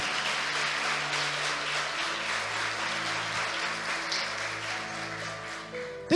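A church congregation claps together in sustained, even applause that fills the room at a steady level, with soft organ or keyboard chords held underneath.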